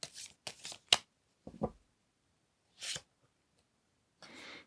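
Tarot cards being shuffled and laid out on a table, several short papery riffles and flicks with silent gaps between them, close and quiet, ending in a longer soft brushing slide.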